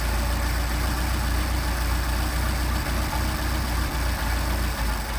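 A car engine fitted with Solex carburetors idles roughly while the carburetors are adjusted, a steady close drone with uneven stumbling beats and no talk.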